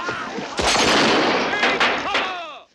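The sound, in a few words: gunfire in the film if.... (1968)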